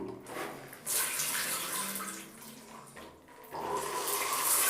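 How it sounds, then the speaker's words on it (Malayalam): A bathroom shower fitted with a diverter and flange kit runs steadily, its water hissing and splashing close by, with the flow surging louder partway through. "ഞാനൊന്ന് ജസ്റ്റ് ഓണാക്കിയിട്ട് കാണിച്ചു തരാം. നമ്മൾ ഷവർ ഓണാക്കുന്ന സമയത്ത് ആ വെള്ളം വരുന്ന"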